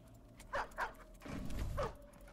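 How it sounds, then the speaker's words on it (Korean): A dog in the strategy game Stormgate gives a few short, faint barks, two quick yelps followed by a longer rumbling bark, fairly quiet and distant. "저 왈왈 소리 좀 너무 커요"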